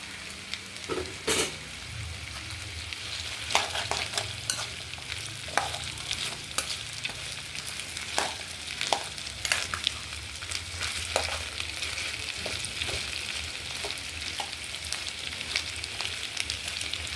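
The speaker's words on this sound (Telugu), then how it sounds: "అల్లం ముక్కలతో పాటు వెల్లుల్లి కూడా బాగా ఫ్రై చేసుకోవాలి." Ginger and garlic pieces frying in a pan over medium flame for ginger pickle, a continuous sizzle broken by repeated sharp scraping strokes of a stirring spoon, close and steady with no speech.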